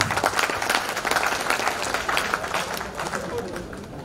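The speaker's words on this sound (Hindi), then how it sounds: "जोरदार ताली बजाएं" Applause from an audience at a university event in Rewa, with dense clapping filling the whole stretch at steady loudness, mixed with crowd noise and some voices underneath.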